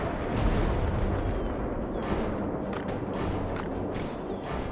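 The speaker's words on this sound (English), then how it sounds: "Mortar can now be used." Mortar fire and booming battle noise from the World War Armies video game, a continuous loud rumble of artillery-like blasts with no clearly separated single shots.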